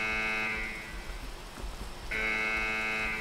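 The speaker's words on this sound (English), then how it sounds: "Why is this alarm going off" In the video game Escape From Tarkov, an alarm gives off a steady buzzing tone that dips briefly and then comes back strong over faint rain-like noise.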